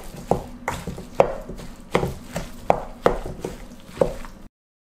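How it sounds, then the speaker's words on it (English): Chicken and broccolini mixed with a wooden spoon, producing a regular series of close, dull knocks and thumps about every half second, each followed by soft squishing, then stopping. "Now using a wooden spoon, mix it well with the broccolini."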